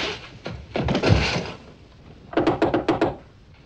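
Knocking on a door in a 1955 film scene: a few heavy thuds first, then a quick run of about five sharp raps, close and loud with no talk.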